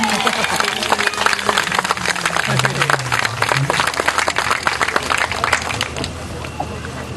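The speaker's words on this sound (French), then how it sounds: "On peut l'applaudir, s'il vous plaît." Spectators clap for a fighter being introduced at a savate (French boxing) bout, a sustained round of dense applause with a voice speaking over it.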